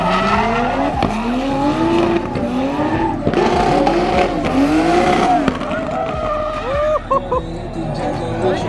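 Race cars at a JDM car meet sweep past nearby with rising and falling engine notes and sharp tire squeal, several passes in quick succession, loud and close, with spectators chattering and shouting around them.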